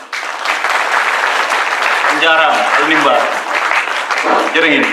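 Audience applause at an intercultural conference, a steady wash of clapping from a crowd lasting throughout, with a voice speaking briefly over it partway through.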